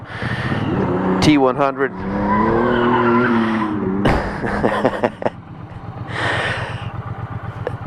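A Ford truck drives past nearby, its engine rising and tires squealing briefly before fading, with someone talking over it.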